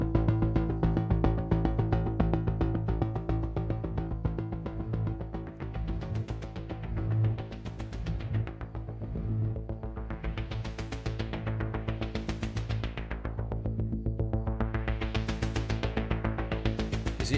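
A dense synthesizer pulse from the Morphed 2 instrument by Visions TNT Music swells in slow repeating sweeps, its brightness rising and fading several times over a sustained droning bed. No voices are heard.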